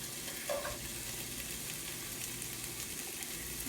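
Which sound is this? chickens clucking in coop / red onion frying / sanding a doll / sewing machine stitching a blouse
red onion frying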